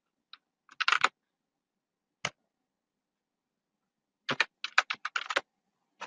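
A file name is typed on a computer keyboard in a quiet room: a quick burst of key clicks, a lone tap, then a faster cluster of keystrokes, close and crisp.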